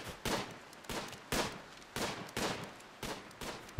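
Rapid bursts of gunfire from the colony game Rimworld, sharp loud volleys repeating roughly every half second, close and dense with no talk over them.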